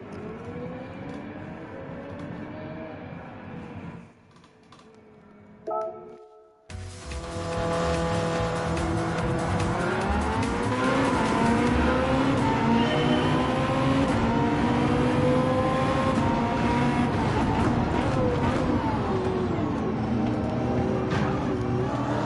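Race cars in Gran Turismo 7, played in PSVR2 against a hard-difficulty field: after a quiet start engines roar up into a loud, sustained whine with shifting revs and tire squeal, steady and close.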